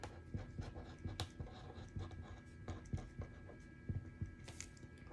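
Pen or marker writing on a surface while a math lesson on quadratic functions is explained, giving soft irregular scratching strokes and taps, close and fairly quiet, with no talk.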